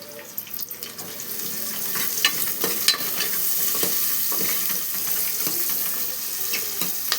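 Chicken being stirred in a hot pan, a spoon scraping and turning the pieces in steady, close strokes over a continuous sizzle of frying, with no talking.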